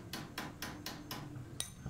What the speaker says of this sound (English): Tap with a hammer will sort that out.